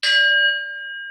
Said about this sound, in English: a singing bowl.